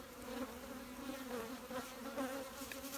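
Honeybees at an open hive while a new honey super goes on above the brood box, a steady dense buzz that swells and dips slightly, close and continuous with no voices.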